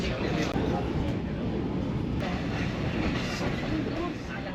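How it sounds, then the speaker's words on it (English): A passenger train leaving Machu Picchu rumbles steadily from inside the carriage, a dense, constant roar of wheels and rails, with a voice speaking over the noise. "So we've been on this train for about 4 hours now."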